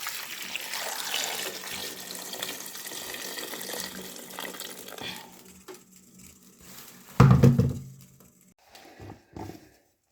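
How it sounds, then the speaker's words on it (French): Boiling water poured over Brussels sprouts being blanched in a kitchen, a steady running splash for several seconds that fades, then a brief louder gush and a few faint drips. "On rajoute de l'eau bouillante."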